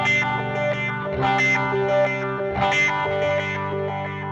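Electric guitar on a Line 6 Helix with effects summed to mono and blended in, arpeggiated notes and two strummed chords ringing with chorus shimmer and delay repeats, full and steady.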